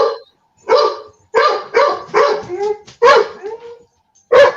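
Dog barking in a yard: a run of seven loud, close barks in uneven bursts, some dropping into short whiny tails, with clear gaps between them and no talking.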